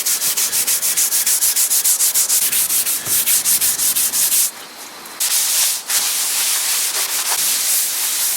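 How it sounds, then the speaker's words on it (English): Fine 0000-grade steel wool scrubbed over an oak utility hall table, a steady rapid back-and-forth rasping that runs almost continuously, loud and close, with a couple of brief pauses and no talk. "4-0 steel wool."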